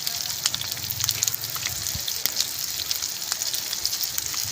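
Duck pieces fry outdoors in their own rendered fat for adobo, a steady bubbling sizzle with crisp crackles and occasional sharper pops, fairly close and with no talking.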